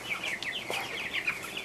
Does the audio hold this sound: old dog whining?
no